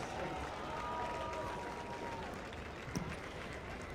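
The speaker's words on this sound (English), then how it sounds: "Let's give our inductees a warm applause." A crowd at a high school football game applauds Hall of Fame inductees, a dense, steady wash of clapping and stadium noise heard from a distance and holding evenly throughout.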